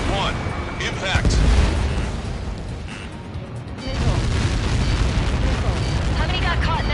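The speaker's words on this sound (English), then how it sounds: "How many got caught in that explosion?" Explosion in the jet combat game Ace Combat 7, a Helios projectile impact: a deep rumbling boom that swells, dips, then rolls on as a sustained roar under radio chatter.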